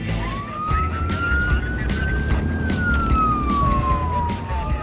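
A British police car siren wails steadily, rising and falling in pitch, over the rumble of traffic and a running engine.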